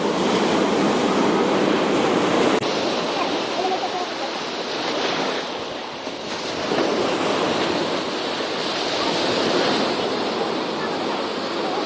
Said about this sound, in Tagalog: Lakas ang alon, delikado.